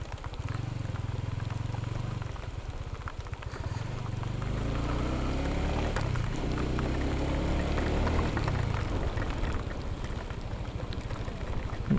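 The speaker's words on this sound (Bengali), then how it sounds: "বৃষ্টি শুরু হয়ে গেল, ঝুম বৃষ্টি" Heavy rain pours down steadily during a motorcycle ride near Nikli Khatian in Gazipur, a dense hiss and patter with a low rumble underneath, loud and continuous with no break.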